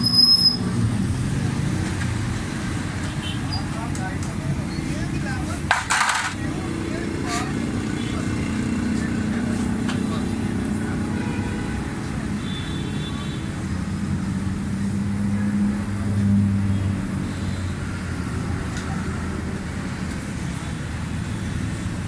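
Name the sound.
Suzuki Bolan Carry 2008 pickup engine revving at full throttle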